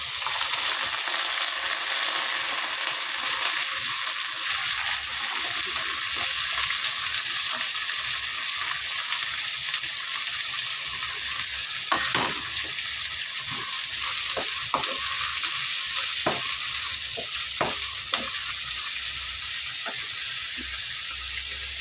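Onions with rock salt frying in a pan, a steady hiss under repeated sharp stirring scrapes and taps that grow busier toward the end, close and alone.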